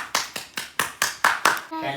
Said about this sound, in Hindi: तो पहले तालियां हो जाए।